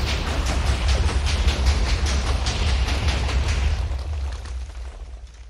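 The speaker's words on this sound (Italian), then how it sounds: "esplode tutto" A TNT cannon in Minecraft sets off a rapid series of explosions, booming rumbles and pops running together loudly before fading toward the end.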